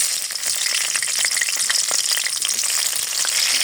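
Green chillies hit frying onions in a pan for a Bengali lau and shol fish curry, giving a steady close sizzle with scattered crackling pops throughout, no voices.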